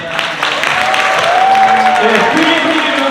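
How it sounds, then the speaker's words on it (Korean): A wedding crowd cheers and applauds as the bride and groom march out, a loud continuous wash of clapping with scattered shouts and voices mixed in. "저희가 신랑 신부에게 뜨거운 환호와 박수를 보내드리겠습니다"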